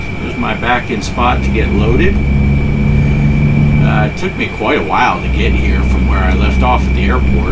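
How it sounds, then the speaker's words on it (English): A room air conditioner running in a constant loud whooshing drone throughout, with someone speaking steadily over it. "Sorry about the noise of the air conditioner."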